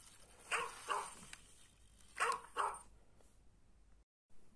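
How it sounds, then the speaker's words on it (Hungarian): Dogs barking in a farm video game, four sharp barks in two pairs at moderate distance over a quiet background hum, then a short pause. "Dehogy is, még a kutyáink jönnek."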